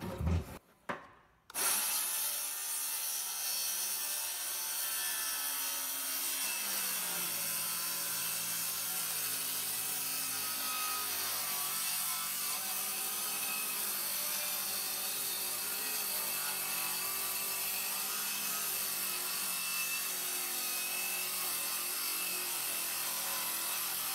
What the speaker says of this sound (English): He's not giving that saw any mercy neither.